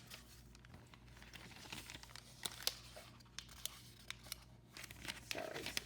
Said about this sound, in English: excuse my one-handed page turning here.